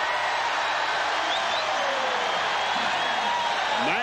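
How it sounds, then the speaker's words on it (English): A dense basketball arena crowd roars in sustained cheering after a slam dunk in a 1991 Atlanta Hawks versus Denver Nuggets game, loud and steady throughout with occasional shrill whistles above it. "that gets the crowd all fired up"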